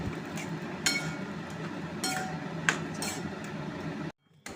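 Soaked sago is stirred with caramelized sugar in a cooking pot for sago payesh, making a steady scraping with a few sharp metallic clinks of the spoon against the pot before a sudden cutoff.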